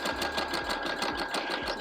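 A sewing machine runs steadily and close by, stitching a narrow hem on jersey fabric with a fast, even rhythmic chatter throughout.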